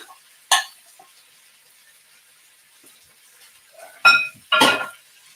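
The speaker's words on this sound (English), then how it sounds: "Give them a little stir." A utensil scrapes and clinks against a wok on a wood stove, a single sharp knock early on, then quiet, then two louder metallic scrapes close together near the end.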